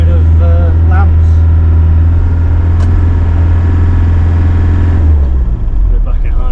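A vehicle engine in low gear pulls a trailer load of lambs up a hill at a market with a loud, steady, heavy drone. People talk over it.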